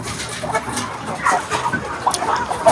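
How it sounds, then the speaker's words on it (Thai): Chickens clucking in a farmyard as a keeper prepares to feed them, a steady scatter of short clucks and calls close by with outdoor background noise and no talking. "ไก่นี่"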